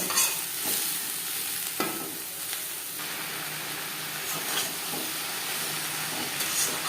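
Ridge gourd and pointed gourd stir-fried with onion and chili in a pan, a steady loud sizzle with scraping stirs and a few sharper clacks throughout, no talking.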